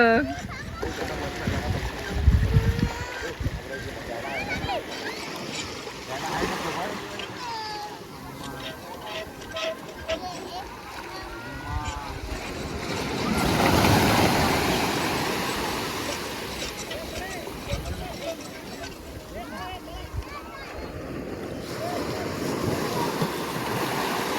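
Waves wash steadily onto a Konkan seashore with wind noise, swelling to a louder surge midway, while people talk over the rolling surf.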